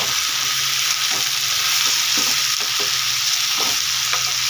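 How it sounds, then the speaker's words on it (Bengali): Dried lote fish (Bombay duck) and eggplant fry in oil with a steady, loud, close sizzle, broken by scattered scrapes and knocks of stirring throughout. "বেশ ভালো করে আমি একটু ভেজে নেবো"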